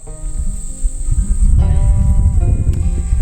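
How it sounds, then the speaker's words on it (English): Grasshoppers and other insects buzz on a farm, with a steady high whine holding through the clip over a rustling outdoor background, fairly loud and close, with no talking. "there's a bunch of grasshoppers over here"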